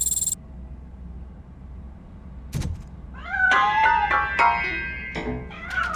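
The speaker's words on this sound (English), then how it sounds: "That cat must be hiding inside." A cat meows repeatedly from inside a piano, a run of several rising and falling calls, fairly close, with a sharp knock heard just before them.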